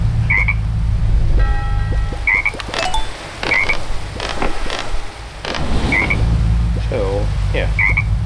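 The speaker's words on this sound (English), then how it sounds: "he just hops around like a frog, rivets. It's more like a chirping sound," A tree frog character in Crossy Road chirps in short repeated croaks, with a game soundtrack and effects playing underneath.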